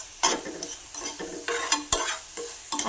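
Jackfruit dumpling mixture stirred in a pan for village-style cooking: a series of scraping, sizzling stirs in an irregular rhythm, close and clear, with no talking.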